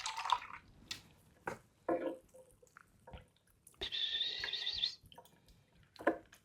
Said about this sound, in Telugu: మళ్ళీ ఇప్పుడు ఈ నీళ్ళు పడేస్తున్నాను.